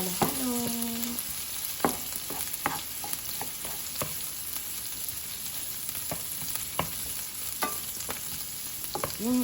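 Vegetable and egg omelette cooking in a pan, with a steady sizzle broken by repeated scraping and stirring taps of a utensil, close and moderately loud, with no talking.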